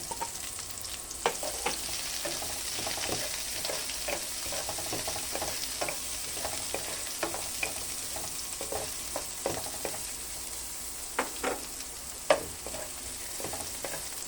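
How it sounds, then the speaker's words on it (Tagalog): Garlic and onion sizzling in a frying pan while being stirred, a steady soft hiss broken by scattered clicks and scrapes of a utensil against the pan. "gigisa na po tayo ng bawang"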